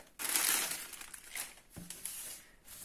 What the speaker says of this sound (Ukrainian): А коли я відкрила пакет,